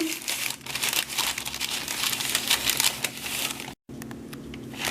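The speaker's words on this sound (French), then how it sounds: "Je mets un papier cuisson sur mon fond de tarte." Baking paper being crumpled and pressed down onto a tart crust for a chocolate strawberry tart, a loud, continuous crinkling close by, broken by a brief silent gap near the end.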